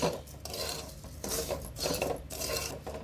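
Roasted wheat semolina and sugar stirred together in a pan, a steady dry scraping and rasping with several louder strokes over a few seconds, close up and without talk.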